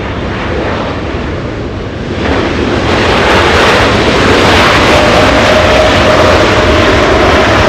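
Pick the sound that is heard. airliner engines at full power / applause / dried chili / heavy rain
airliner engines at full power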